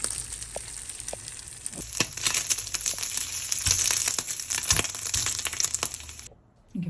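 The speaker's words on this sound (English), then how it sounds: "Pan hot. Bacon in." Bacon frying in a hot pan, a steady bright crackle with scattered sharp pops and clatters throughout, close and fairly loud, cutting off near the end.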